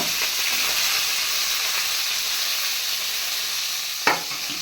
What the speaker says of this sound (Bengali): আমি কফিটাকে ভেজে নেব